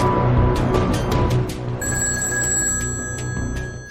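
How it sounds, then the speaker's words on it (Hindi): A telephone bell rings in several rapid, repeated trills, loud and close, followed by a steady electronic tone. "क्रेमलिन में बजी फोन की एक घंटी ने खतरे की घंटी बजा दी"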